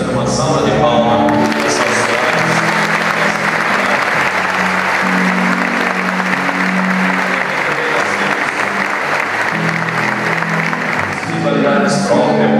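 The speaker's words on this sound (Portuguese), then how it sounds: "Isso é uma salva de palmas." Sustained round of applause from a church congregation during a parish event, dense steady clapping filling the space for about twelve seconds, with faint voices and a low hum underneath.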